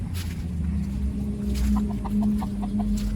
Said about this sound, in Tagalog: yung manok namin na Rhode Island Red